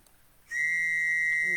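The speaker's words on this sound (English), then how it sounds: "Whistle time." A whistle is blown in one sustained, piercing shrill tone that starts abruptly after a brief quiet moment and holds loud and steady to the end.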